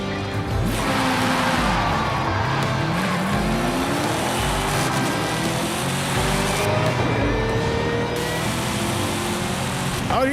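Car engine in the Forza racing game revving hard, a loud continuous roar with rising and falling pitch sweeps, tire squeal and skidding mixed in, with game sound filling the whole stretch.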